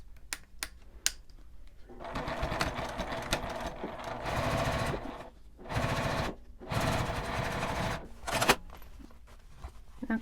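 A sewing machine topstitches the edge of a laminated-fabric mini wallet in short bursts of rapid needle chatter, separated by pauses and a few clicks, close and clear with no talking.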